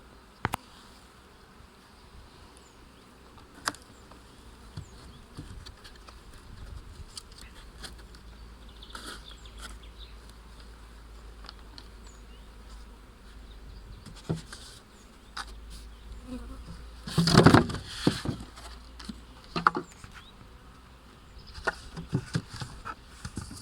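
Honey bees hum and buzz steadily around an open two-queen hive in an apiary, with individual bees flying close past and some soft handling knocks and rustles along the way.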